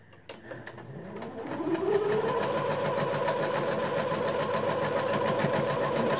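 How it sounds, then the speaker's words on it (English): A sewing machine stitching down quilt fabric for a star quilt: the motor spins up over a couple of seconds, then chatters along in a fast, steady, close needle rhythm. "we're going to start sewing this down"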